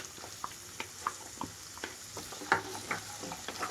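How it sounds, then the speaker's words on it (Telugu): Soaked chana dal is added to a pan with carrot and tomato and stirred, giving a soft, continuous sizzle with scattered light scrapes and taps, close and fairly quiet, no talk. "నానబెట్టిన పచ్చిసెనపప్పు ముందుగా వేసేస్తున్నాను"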